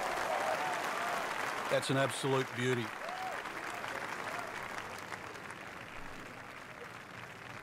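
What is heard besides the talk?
golf spectators clapping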